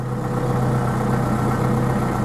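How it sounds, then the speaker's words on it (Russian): Tractor engine running steadily while driving slowly toward a hayloft on a cold sunny early-spring farm, a constant close, loud low rumble with no voices over it. "Завел трактор и поехал, сейчас потихонечку еду, поехал на сеновал"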